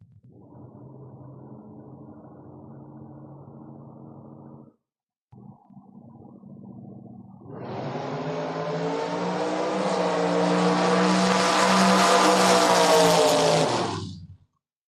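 Two drag cars at a Door Wars race, the FRBR house truck against a Camaro, idle and stage with low rumbling engines, then both launch into a loud, sustained full-throttle roar that builds for several seconds before cutting off.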